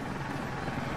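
A steady, throbbing helicopter rotor drone in the video game ArmA 3, loud and continuous, with no voices over the brief stretch.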